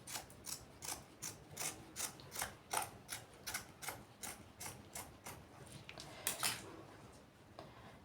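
Fabric being cut for a skirt pattern with scissors, heard as a steady series of about twenty crisp, close snips in an even rhythm, no talking.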